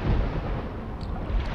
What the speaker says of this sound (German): Das ist bloß ein Gewitter.